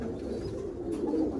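Racing pigeons, tournament-flown birds kept in a loft, coo in a low, steady murmur close by, with soft cooing swells continuing throughout without any talk.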